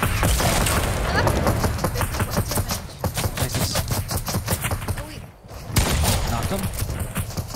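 Rapid gunfire bursts from a Fortnite match crackle loudly and nearly nonstop, with a short lull before the shooting resumes, under excited players' voices.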